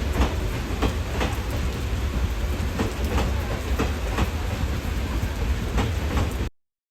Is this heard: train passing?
yes